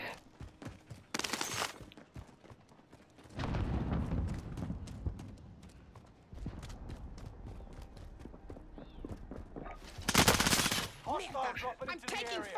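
Gunfire in Call of Duty: Modern Warfare: bursts of rapid automatic shots mixed with single reports and a loud close volley near the end, over busy battlefield noise and clattering movement.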